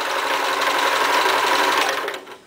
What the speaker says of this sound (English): just step on your foot pedal and that'll wind your bobbin.